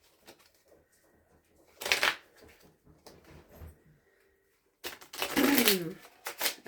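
A pet dog scratches and scrapes at its fabric bed in two loud rough bursts, separated by quieter rustling, close to the microphone indoors.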